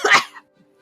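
A single close, loud cough bursts out at the start and stops within half a second, leaving only a faint low hum.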